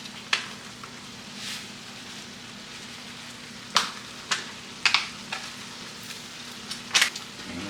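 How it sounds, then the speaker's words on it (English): Seasoning from a packet being stirred into food frying in a pan, with a steady soft sizzle under scattered sharp clicks and scrapes of the utensil against the pan, close by and without talking. "Keep mixing, make sure that seasoning doesn't get burned on the bottom."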